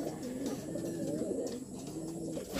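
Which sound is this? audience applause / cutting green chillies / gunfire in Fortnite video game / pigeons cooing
pigeons cooing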